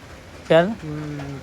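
A Kalshira pigeon gives a short, close coo, a rising throaty note followed by a lower drawn-out hum, with faint background noise.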